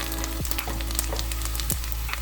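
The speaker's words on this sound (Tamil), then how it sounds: "இப்போ வெங்காயம் நல்லா வதங்கி வாசம் வந்துடுச்சு" Steady sizzling of onions frying in a pan for mutton biryani, a constant crackle with a few sharper pops and scrapes, no voices.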